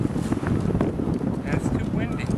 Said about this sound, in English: And it's too windy.